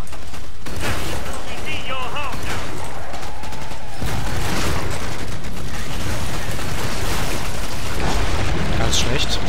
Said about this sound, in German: Durchgekommen, aber die Nuke kam zur rechten Zeit.